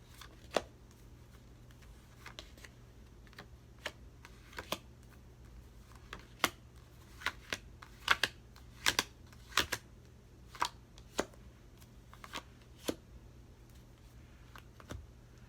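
Tarot cards being shuffled and pulled, giving sharp papery snaps and riffles scattered irregularly across a quiet room, close and fairly soft with a low steady hum underneath.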